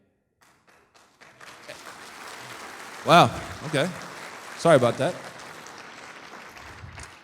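A banquet crowd breaks into applause that swells, fades slightly and rises again, carried under a man's amplified speech with bursts of laughter-like cheering in the room.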